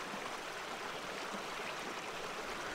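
Huatulco River flowing through forest, a steady broad rush of water that stays even and continuous throughout, with no voices.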